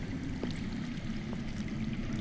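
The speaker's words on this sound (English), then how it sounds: "I hear water. From underground." Steady running water flows out of sight underground in a Game of Thrones video game scene, a continuous low rushing wash with no break across the moment.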